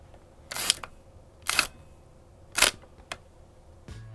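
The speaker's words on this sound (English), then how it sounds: "that absolute steak slapping shutter sound" A Hasselblad 500C/M medium-format camera shutter fires four times with a crisp mechanical chunk each time, close and clean in an otherwise quiet room, with a faint low hum at the end.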